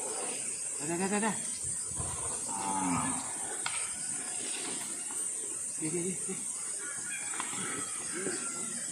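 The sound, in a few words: carabao (water buffalo) mooing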